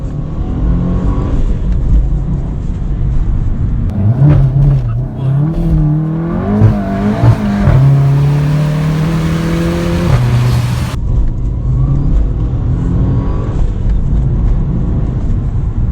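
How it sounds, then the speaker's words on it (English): A Subaru Impreza and a VW Golf GTI Mk7.5 accelerate hard along a B road, engine note rising through the revs in a loud, close surge before settling, with steady road and cabin noise throughout. "that Golf GTI is so fast"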